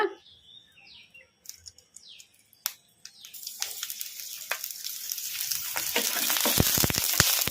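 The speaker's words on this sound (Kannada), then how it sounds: "ಈಗ ಇದಕ್ಕೆ 1 ಸ್ಪೂನ್ ಎಣ್ಣೆ ಹಾಕಿ ಫ್ರೈ ಮಾಡ್ಕೊಂಬಿಡೋಣ" Green chillies frying in a spoonful of oil for a greens chutney, starting faint with birds chirping nearby, then a rising crackling sizzle that grows steadily louder and denser.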